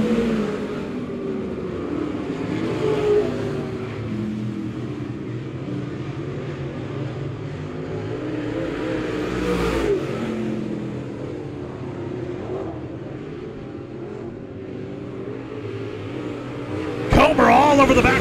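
Race cars roar through laps at Monett Raceway, a steady mid-distance engine drone with rising and falling revs, a commentator talking over it and a sharp clatter near the end.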